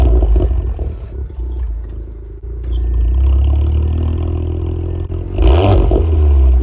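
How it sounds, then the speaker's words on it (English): Engine of an Audi S4 ABT quattro revving, a deep, loud rumble with throttle blips, a lull, then a fresh louder surge near the end, recorded close. "So let me show you a little rev here."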